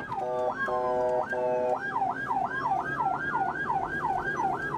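An ambulance siren in Ukraine, carrying a critically injured landmine casualty through traffic, sounds loud and close: a few steady two-tone blasts give way to a fast, continuous wailing sweep that rises and falls repeatedly, with no voices.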